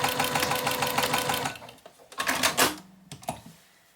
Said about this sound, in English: stitch this at 1/4 inch seam allowance. Back stitching at the start and end, just to make sure everything stays together nicely.